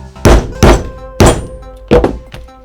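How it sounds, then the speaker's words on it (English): An oval leather punch struck through leather with a mallet, five loud, sharp thunks at uneven intervals, close and alone with no talking. "This is a oval punch."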